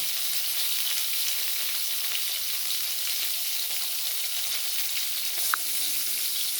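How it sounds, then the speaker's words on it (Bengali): Pointed gourds (potol) frying in oil in a pan, a steady, close sizzle that holds evenly throughout with no voices. "পটলগুলো আমার বেশ লালচে হয়ে ভাজা হয়ে গেছে"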